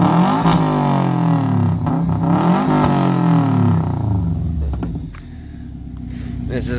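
Subaru WRX four-cylinder engine revving in repeated rising and falling bursts close by, then dropping back toward idle.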